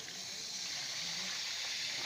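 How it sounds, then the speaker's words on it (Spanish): Water runs from a tap into a hose in a steady, even hiss and gush, close by and unbroken for the whole stretch, with no voices over it. "Vamos a darle el agua."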